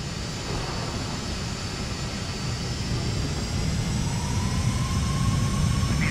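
A Boeing 747-400 jet takes off from runway 27 left as a loud, broad engine roar that swells slowly and steadily, with a faint rising whine under it.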